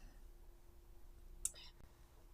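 A single crisp computer mouse click sounds once, faint and close, against a quiet background hum.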